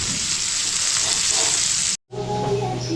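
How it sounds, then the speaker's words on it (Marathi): Large prawns and surmai fish frying in oil in a home kitchen, a loud steady hiss and crackle that cuts out briefly near two seconds, then resumes with a lower hum beneath. "इथे बघा हे आपल्या कोलंबी, मोठे कोलंबी फ्राय होतात आहेत. आणि इकडे सुरमई फ्राय होते."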